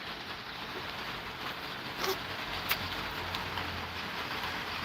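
Steady rain falls on a garden, a dense even hiss throughout with a couple of brief louder patters, no voices.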